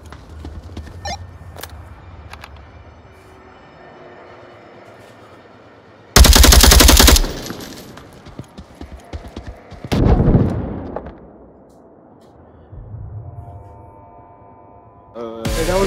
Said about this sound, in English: Hey, that was a good airburst